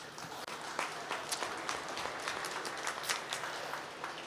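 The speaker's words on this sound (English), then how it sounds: "Let's give her a nice round of applause." A crowd at a cow championship show in Wisconsin applauds steadily, a dense patter of many hands clapping at moderate distance, with a few sharper claps standing out.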